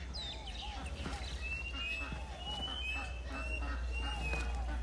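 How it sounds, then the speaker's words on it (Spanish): Morning birds chirp and call repeatedly in the background over a steady low rumble, with thin high whistles drifting in and out, while planting orange and sapote trees; a voice talks intermittently. "Ese es el canto de todas las mañanas de las aves aquí"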